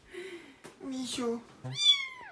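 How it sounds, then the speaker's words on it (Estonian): A kitten meows repeatedly at close range, with a long rising-and-falling final meow, heard between and over a woman's soft, affectionate speech. "meil on nüüd ajutine kiisupoeg"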